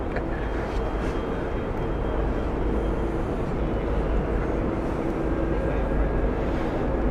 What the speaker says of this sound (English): Next up, American with their 787-9.